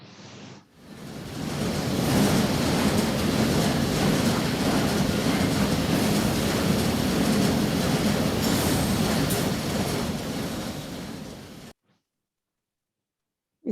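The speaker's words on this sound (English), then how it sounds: "It sounds like a train." A loud train rumbles past close by in a steady, roaring wash of noise for about eleven seconds, then cuts off abruptly.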